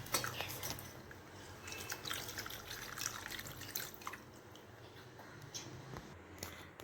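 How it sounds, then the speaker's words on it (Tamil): Water is poured into a pot of rasam while cooking, a faint, continuous trickle and splash with small drips, quiet and close. "தேவையான தண்ணியை ஊற்றிப்போம்."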